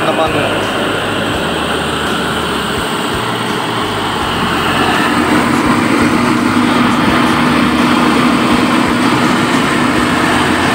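A 2001 Toyota Kijang LGX engine is held at 2000 RPM during throttle tuning, a loud continuous drone with a steady low hum throughout, and a voice talking over the top.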